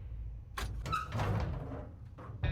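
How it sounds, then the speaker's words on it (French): A door opening in the survival video game 60 Seconds Remastered: a short rustling creak and thud with a brief rising tone, followed by low ambient rumble and a second faint knock at the end. "on écoute dans le son du jeu la porte s'ouvrir."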